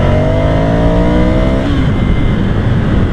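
A Ducati motorcycle's engine revs up steadily after a downshift to second gear, loud and close against heavy wind rush, then the tone drops sharply partway through as the revs change.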